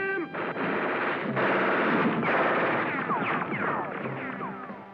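Cartoon gunfire blasts at a giant robot in a Gigantor episode, a dense continuous barrage of shots mixed with whistling, descending effect tones, loud and crowded throughout.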